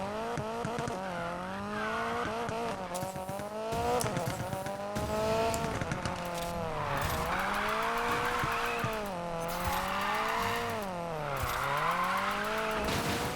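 A MINI Countryman's engine revs hard in the racing game Need for Speed Payback, climbing and falling in pitch through gear changes with tire squeal and skidding, loud and continuous, with a voice speaking briefly.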